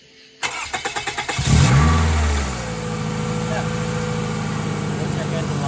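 A 2004 Toyota Camry engine cranks with a quick rhythmic starter whir, catches with a loud rev, then drops to a steady close idle that runs to the end of the clip.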